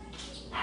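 Dogs yip and bark briefly in a home kitchen, a short burst of high, excited yelps that swells louder toward the end.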